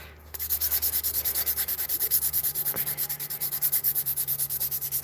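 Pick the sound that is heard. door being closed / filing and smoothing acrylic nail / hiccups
filing and smoothing acrylic nail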